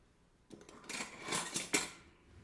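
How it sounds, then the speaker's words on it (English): Metal kitchen utensils clatter and clink as a spoon is pulled from among them, a jangling rustle of several seconds with sharper clanks near the end, close and without speech. "so let's get out my spoon."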